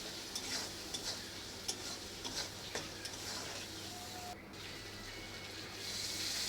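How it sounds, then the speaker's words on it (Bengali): A utensil stirs hilsa and eggplant with turmeric in a pan, making soft scattered scrapes and light clicks over a faint steady sizzle, close and fairly quiet, with no talking. "হলুদটা দিয়েও নেড়ে নেব।"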